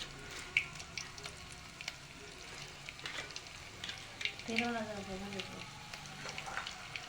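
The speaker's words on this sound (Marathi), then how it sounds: "याला चांगल्या प्रकारे आपण असं परतून घेऊया वाटणामध्ये लसूण कांदे खोबरं आणि कोथंबीर याचं वाटण आहे" A ground paste of garlic, onion, coconut and coriander with bay leaf sautés in a pan for mutton rassa, a quiet, steady sizzle with light stirring scrapes and a brief voice sounding partway through.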